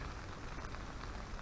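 Rain falls steadily on a backcountry campsite along the Coal Branch trail, a dense, even patter with no pauses, close and moderately loud.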